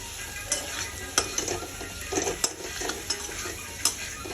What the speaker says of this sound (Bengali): আলুগুলোকেও মোটামুটি ভালো করে আমি কষিয়ে নেব